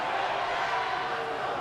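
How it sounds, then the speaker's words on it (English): Crowd at a men's and women's swimming championship cheering just before the race start, a dense, steady roar of many voices filling the pool hall without a break. "You can hear the crowd getting their last cheers in before silence"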